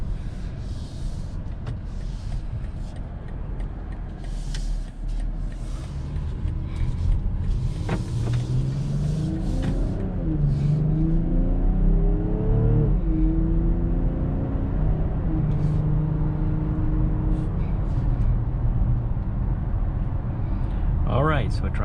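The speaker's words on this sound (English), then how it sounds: "so driving this 2021 BMW X6" A 2021 BMW X6 SUV driving, a steady engine and road drone with a rising, shifting engine tone as it accelerates, heard from inside the cabin over a long stretch.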